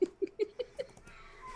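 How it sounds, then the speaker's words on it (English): A pet cat meows in the background, five short, evenly spaced calls in quick succession at moderate volume, fading off into quiet room tone with no talk over them. "That's my cat Henry in the backgroround."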